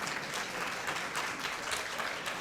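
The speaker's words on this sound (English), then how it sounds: "Please give them a huge round of applause." Luncheon crowd honoring senior volunteers at a service recognition event in Travis County gives a steady round of applause, dense overlapping clapping at an even level with no speech.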